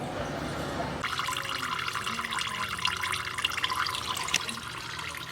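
Engine oil drains steadily from a 3.4 engine into a pan, a constant close liquid trickle and splash with faint drips that keeps going without a break.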